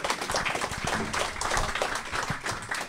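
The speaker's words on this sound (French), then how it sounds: "Je voudrais que vous applaudissiez Madame Monnoyer et Monsieur Archimbaud" A public debate audience applauds the speakers, a dense patter of many hands clapping at moderate level, steady for a few seconds without a break.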